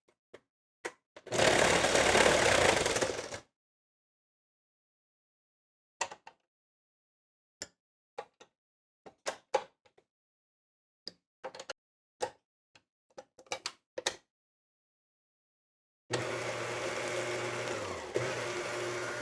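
An electric mixer beats cookie dough ingredients in two loud bursts of whirring, the first short and harsh and the last lower and steadier, separated by quiet stretches of sparse clicks and taps.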